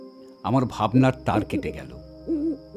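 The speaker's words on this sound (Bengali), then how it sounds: "কোনো এক রাত্রিচর পাখির ডাকে" An owl-like hoot from a night bird, used as a sound effect in a spoken horror story, rises briefly behind someone narrating and returns once more near the end.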